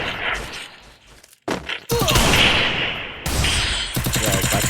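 Rapid gunfire bursts from a video game, dense and loud, with a headshot moment amid crashing impacts, continuing almost without pause after a brief quieter lead-in.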